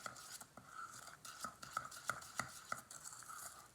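A spoon mixes banana bread batter with added sugar in a bowl, making quiet, rhythmic taps and soft scrapes that repeat at a steady pace with no talking.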